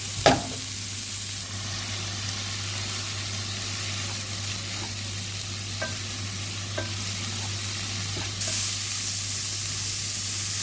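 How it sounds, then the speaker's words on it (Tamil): Steady frying sizzle of broccoli sautéing, with occasional soft stirring scrapes and clicks in a pan, continuous and moderately quiet, no voices. "இப்போ அதுக்குள்ளே போட்டு இந்த ப்ரோக்கோலியை வதக்கி எடுக்க போகிறேன்."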